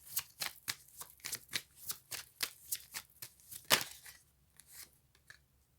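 Playing cards shuffled by hand in a quiet room, a quick series of crisp riffling bursts and soft slaps, about a dozen in rhythm, close and clear with no talk.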